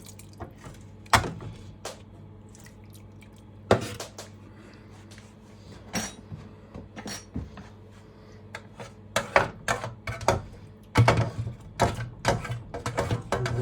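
Liquid for a vegan brown gravy is tipped into a saucepan holding carrot tops, heard as scattered splashes, drips and clunks of the pan over quiet background.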